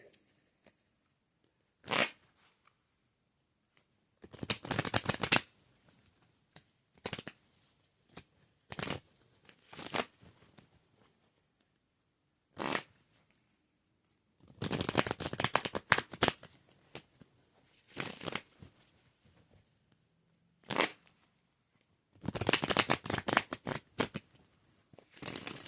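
A deck of tarot cards shuffled by hand in quiet surroundings, a series of brisk papery riffles and short flutters, some single snaps and some longer bursts separated by silent pauses.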